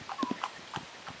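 Horse hooves trotting on a road, a close, clear run of sharp clip-clop strikes in an even rhythm, with no talk over them.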